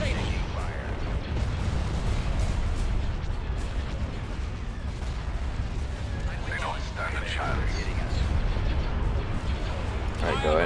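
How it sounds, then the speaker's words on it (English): Continuous space battle din from the Star Wars game Empire at War, an ion barrage and full weapons salvo, forms a dense, steady roar of blasts and mechanical fire that holds at a constant loudness, with voices talking over it. "Give me an ion barrage and a full salvo."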